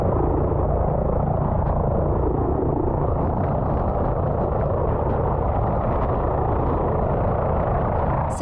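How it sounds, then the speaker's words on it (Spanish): A rescue helicopter hovers over a beach at Playa Amarilla in Chile, a loud, steady rotor roar and rumble filling the whole stretch without pause and with no voices. "La aseguraron para subirla al helicóptero."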